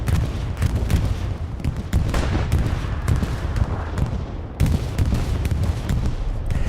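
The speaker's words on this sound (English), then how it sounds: "Bombing run coming on in." Bombing run in the Hell Let Loose game on the night Driel map: a heavy barrage of booming explosions and rumbling blasts, mixed with scattered gunfire, loud and continuous throughout.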